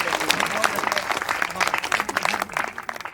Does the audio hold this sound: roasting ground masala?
no